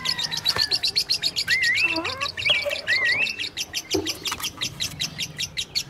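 Young native chickens, now feathering out, chirp and cheep in rapid, overlapping high calls that carry steadily throughout, with faint background noise beneath.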